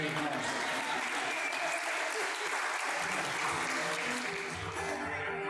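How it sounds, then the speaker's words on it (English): An audience at a charity event applauds the Ghostbusters costume group for handling Slimer, the clapping dense and steady, close and fairly loud, running the whole stretch with light crowd noise beneath. "We need to make sure we give them a round of applause"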